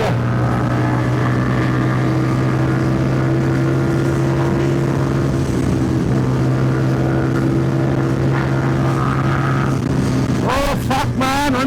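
A cruiser motorcycle accelerates hard in fourth gear past 160, its engine a steady loud drone under constant wind noise, with a few sharp rising whines near the end.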